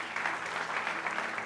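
Loud, dense audience applause at a church service fills the whole stretch, steady and close with no break.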